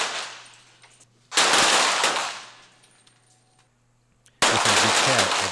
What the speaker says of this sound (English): Today it's an indoor shooting range for men's 25m center fire pistol and women's 25m pistol events.